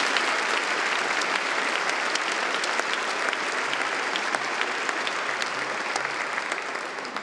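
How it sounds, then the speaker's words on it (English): Warm applause for a chorus, soloist, orchestra and stage manager at a concert hall performance, many hands clapping evenly for several seconds and fading slightly at the end. "let us give the chorus, the soloist, the orchestra, the stage manager, a warm round of applause."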